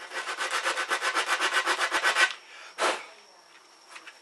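Rapid back-and-forth rasping of sandpaper on a wooden skirting board corner piece, about a dozen rhythmic strokes, then a pause and one final scrape.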